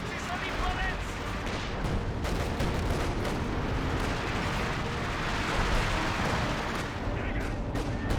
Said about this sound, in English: receiving a bunch of just machine gun fire